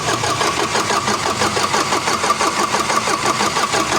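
An Isuzu 4HG1 diesel engine cranks in a loud, close, steady rhythmic churn of the starter without catching or firing up.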